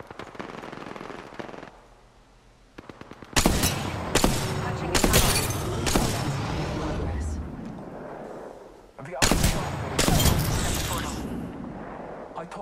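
Loud automatic gunfire from Apex Legends erupts in heavy bursts after a quieter stretch, with a short pause before another volley, and a character voice calls out over the shooting.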